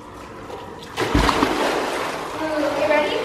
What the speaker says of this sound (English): who's got the smaller splash?